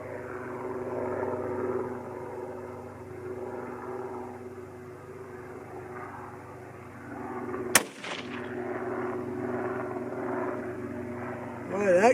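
Single sharp report from a .25-06 Remington rifle loaded with IMR-4350 powder, fired once cold bore at a shooting range, a loud close crack cutting through steady background hum, with someone talking before and after.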